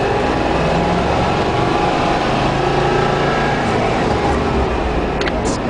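A car with a dead clutch pulls along in second gear without using the clutch, its engine a steady, loud, broadband drone with road rumble running throughout and no pause.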